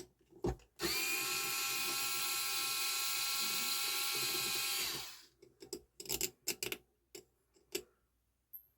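A power screwdriver whirs steadily for about four seconds and winds down while removing the bottom bearing cap of a Marantz 6025 turntable, followed by sharp clicks and small metallic handling knocks.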